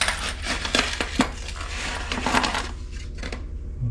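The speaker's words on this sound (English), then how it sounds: "We're going to get these bolts and we're going to put them in our flange." Metal toilet flange bolts clink and rattle against each other as they are handled, several sharp close metallic taps and jingles over a steady low background hum.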